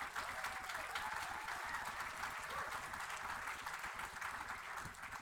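A congregation at a rabbi's installation ceremony applauds for Daphne, a steady, fairly distant roomful of clapping that continues evenly for several seconds without speech.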